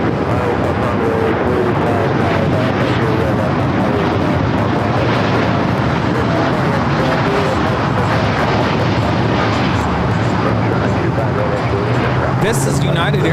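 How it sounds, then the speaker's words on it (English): A United Airlines Boeing 787-9 Dreamliner takes off at LAX, its engines making a loud, steady broadband roar that holds through the whole stretch with a low rumble rising near the end. "This is United Airlines 2361 taking off to Newark on the 787-9 Dreamliner."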